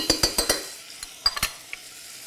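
A spoon clanks and scrapes several times against a pan of onions and garlic as tomato paste is scooped in, with a soft sizzle underneath and a few scattered taps toward the end.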